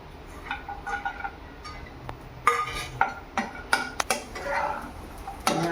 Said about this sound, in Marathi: आपल्या हलक्या हाताने खालीवर खालीवर करून घ्यायचे हे काजू बदाम